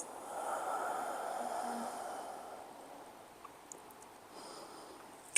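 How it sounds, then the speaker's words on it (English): A slow, audible exhale during yoga breathing, a soft airy breath rising and then fading over a few seconds, close and quiet, followed by faint small clicks. "Exhale it out."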